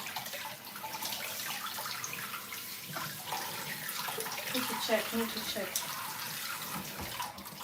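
A kitchen tap runs steadily with water splashing into a sink during soup cooking, a constant close rush with a few clinks and a brief spoken phrase over it.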